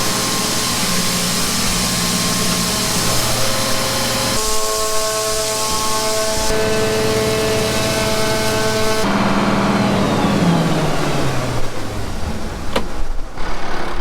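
Grain vac running loud and steady while sucking harvested grain up off the ground into a trailer, a constant roaring whoosh with engine drone and shifting tonal whine throughout.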